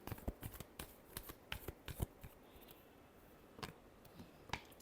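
Tarot cards shuffled in the hands, a quick run of crisp riffling flutters and soft taps, close and fairly quiet, with no talking over it.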